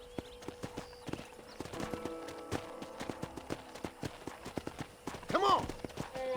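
Rhythmic clip-clop of horse hooves at a steady trot in Red Dead Redemption, close and clear, with a brief whinny near the end.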